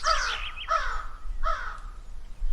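Cartoon parrot flying away: three harsh, squawking bird calls, each a short descending cry, spaced about three-quarters of a second apart over a low background hum, with no talking.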